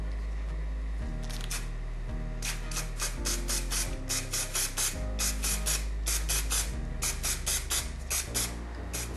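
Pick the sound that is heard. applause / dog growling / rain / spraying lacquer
spraying lacquer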